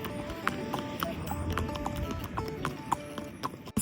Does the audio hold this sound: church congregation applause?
no